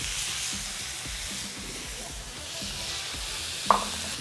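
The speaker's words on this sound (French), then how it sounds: "Je vais rajouter un peu d'huile d'olive. Ensuite, on va venir mettre un peu d'ail par-dessus." Olive oil and garlic sizzle on a plate over a wood-fired brazier, making a steady close crackling fry with faint scattered pops throughout and one sharper click near the end.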